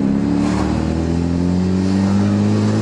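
A car engine drones loudly and steadily up close, holding a constant revving pitch throughout.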